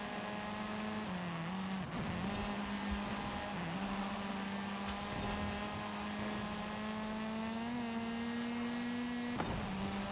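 Race car engine in Forza Horizon 5 holding a steady, loud droning whine throughout a team trial lap, with slight pitch shifts and brief dips as gears and corners change, no talk over it.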